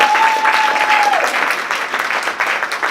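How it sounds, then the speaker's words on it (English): Audience at a D.D.S. 2018 ceremony applauds an honoree standing, steady loud clapping for a few seconds with a thin tone fading early on. "please give a round of applause"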